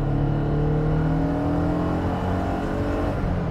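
A 1983 Maserati Biturbo engine revs steadily and loudly up close, its droning pitch rising and holding with a rough, throaty rumble throughout.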